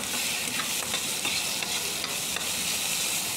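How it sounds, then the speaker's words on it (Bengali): Grated onion and chopped ginger frying hard in a pan for a jackfruit-seed fish head muriganto, a loud close continuous sizzle with a few soft stirring scrapes, no voices. "আদা কুচি আর গ্রেট করে রাখা পেঁয়াজটা দিয়েও একটু ফ্রাই করে নিতে হবে কড়া করে।"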